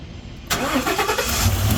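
A truck that has sat unused for about a month cranks and starts on the first try off a GOOLOO GP4000 jump starter, then settles into a steady, loud, close idle with no talk.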